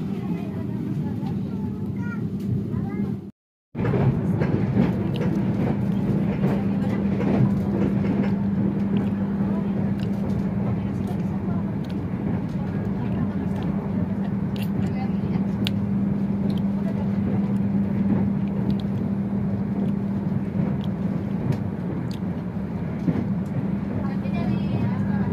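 The Papandayan train rolls into Karawang station with a steady, droning rumble and a low hum that holds throughout, after one short dropout near the start, with voices faintly beneath.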